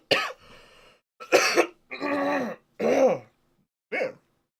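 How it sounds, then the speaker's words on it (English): Several harsh coughs and throat-clearing bursts, close and loud, spaced irregularly with short pauses between them. "Cough in the middle of that"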